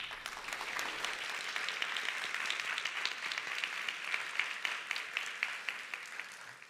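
A church congregation claps in celebration for a newlywed couple during a Sunday worship service, a fairly soft, roomy applause with individual claps standing out and holding steady to the end.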